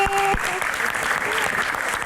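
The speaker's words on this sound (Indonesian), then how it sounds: "tepuk tangan untuk Mbak Arumi" Audience applause rings out at a Q&A event with Emil Dardak, greeting Mbak Arumi: dense, steady clapping that fills the full stretch, with a brief tonal flourish at the start.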